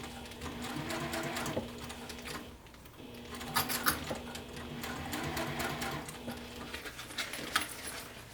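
A sewing machine stitches a bag seam around a curve, running in quick rhythmic bursts with short pauses between them, close and moderately loud, with light clicks and fabric rustle.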